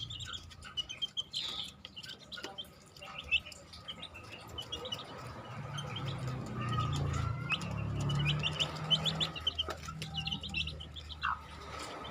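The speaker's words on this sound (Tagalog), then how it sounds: "15 days na po yung sisiw niyan" Fifteen-day-old chicks chirp in short, high, scattered peeps over a low background rumble, fairly faint and irregular, with no talking.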